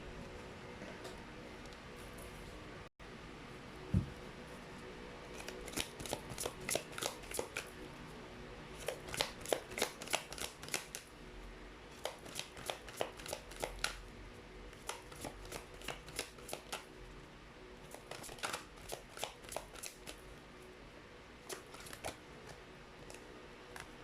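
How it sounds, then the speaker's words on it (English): Tarot cards being shuffled for a reading, a run of quick riffling bursts in repeated clusters, close and fairly soft over a faint background hum with no talk. "let me actually get some random cards for you"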